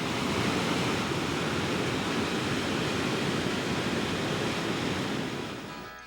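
High, swift-moving water at a waterfall in the Southern Appalachians, a loud unbroken broadband rush and roar that holds steady and eases slightly at the end.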